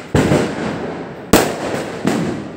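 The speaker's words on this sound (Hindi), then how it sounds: "देखिए अभी पटाखा" Three loud firecracker bangs go off at uneven intervals during Diwali, each blast trailing into a crackling rumble, with no voices.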